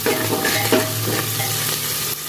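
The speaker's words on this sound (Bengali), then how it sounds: "পেঁয়াজটা ভেজে নেবো ভালো করে, লবণ দিয়ে দেবো, ভালো করে ভেজে নেবো।" Onions fry in hot oil for a chicken curry, giving a loud, dense, continuous sizzle up close. A few brief stirring scrapes cut through, and no one speaks.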